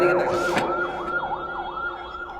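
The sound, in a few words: ambulance siren passing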